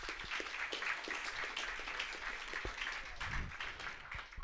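Audience applause at a book launch for a local history of island families, a warm sustained round of clapping from a seated crowd in a hall, steady throughout.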